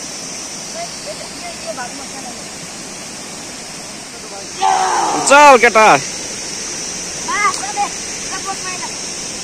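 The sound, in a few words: river stream and small waterfalls flowing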